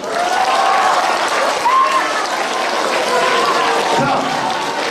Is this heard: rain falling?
no